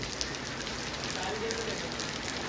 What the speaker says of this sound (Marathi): आता पाऊस आला लगेच